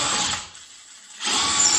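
A drill bores holes in a wooden box used to house native Korean honeybees, with two close, harsh whirring bursts separated by a brief lull.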